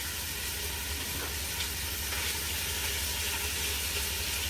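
Cubed chicken hits a hot soup pot and sizzles in a steady broadband hiss, close and constant throughout with no talking.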